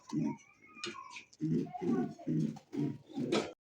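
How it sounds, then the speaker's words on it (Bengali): Bombay pigeons with pink beaks coo in a series of about six close, soft, rhythmic low coos, with faint higher sounds between them. "বোম্বাই কবুতর দেখেন গোলাপি ঠোঁটের"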